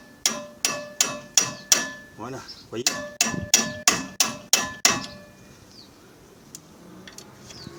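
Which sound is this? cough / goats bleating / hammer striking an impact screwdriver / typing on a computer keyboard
hammer striking an impact screwdriver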